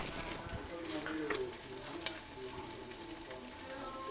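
Garlic cloves sizzle in oil in a pan while a cuttlefish-ink risotto is being made, a busy, crackling fry with occasional stirring scrapes and faint clinks, steady and close with no talk.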